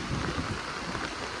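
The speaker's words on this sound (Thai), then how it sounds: "ฝนมันตกเนาะ" Steady, dense rain pouring down at an outdoor market, a continuous even hiss and patter filling the whole moment with no voices or distinct events.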